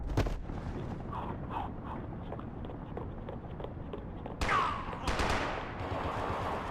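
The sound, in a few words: gunfire in the video game Max Payne 3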